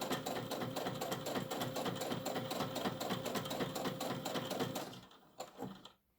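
A sewing machine stitches fabric for a cup cozy in a fast, steady run of mechanical clatter close by, then slows and stops near the end.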